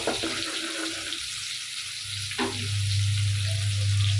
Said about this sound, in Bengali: এদিকে আমার তরকারির মাছটাও ভাজা হয়ে যাচ্ছে